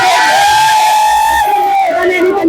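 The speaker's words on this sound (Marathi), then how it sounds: "कार्यकर्त्यांचा जल्लोष तुम्ही पाहता" Party workers celebrating an election win in ward 5 of Solapur, a loud crowd of cheering, whooping and yelling voices close by, with a sustained shout running throughout.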